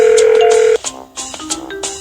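A telephone rings during a call in a Babybus children's game with Panda Kiki: a steady electronic tone first, then a short run of brighter chiming beeps, loud and close.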